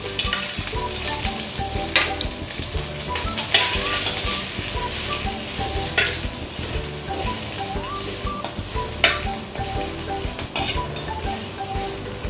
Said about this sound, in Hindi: और तब तक सौते करेंगे जब तक प्याज का कच्चापन ना निकल जाए। और साथ ही हम यहाँ पर डाल रहे हैं 8-10 काजू।